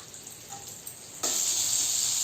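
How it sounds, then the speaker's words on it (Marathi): Butter sizzles on a hot tawa for pav bhaji, a soft hiss that jumps to a louder, steady crackle partway through and holds alone to the end. "पहिला आपण तव्यावर बटर टाकूया. मस्का टाकलेला आहे."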